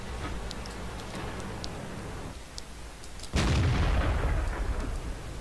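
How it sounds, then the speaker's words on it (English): A tank cannon fires in the video game World of Tanks with a single loud, sharp boom midway, heard over steady engine rumble and faint ticking. "Just took the shot."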